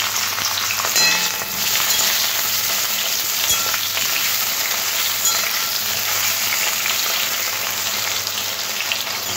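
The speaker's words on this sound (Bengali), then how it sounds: "লম্বা কেটে রাখা বেগুনগুলো তেলের মধ্যে দিয়ে একটু লাল লাল করে ভেজে নেব।" Long-cut eggplant slices fry in oil in a kadai, giving a loud, steady, dense sizzle that runs unbroken throughout, with no voices over it.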